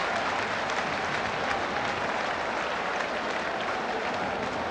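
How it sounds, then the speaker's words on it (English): A football crowd at Portman Road applauding after a goal in a match between Ipswich Town and Notts County, a steady, dense roar of clapping that holds evenly throughout. "generous applause here from the Portman Road crowd"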